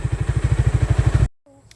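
Motorcycles on an off-road trail by a river putter loudly and steadily, their engines pulsing in a fast even rhythm before cutting off abruptly into near silence.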